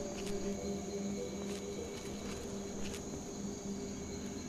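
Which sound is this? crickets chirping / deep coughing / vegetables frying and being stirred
crickets chirping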